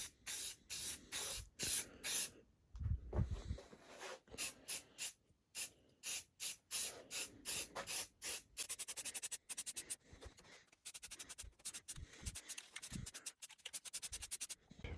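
Satin black spray paint is applied to car roof trim pieces from a Honda Civic, heard as many short, close hissing bursts in quick irregular succession, some longer sprays between them.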